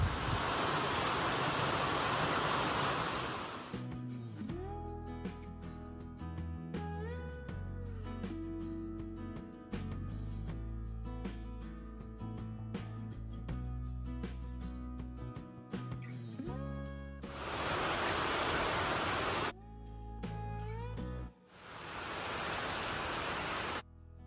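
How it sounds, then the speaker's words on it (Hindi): Loud, roaring rush of heavy rain and wind at the start and end, with a long stretch of music in between. "अभी एकदम से बारिश तेज होगी और हवा चल रही है"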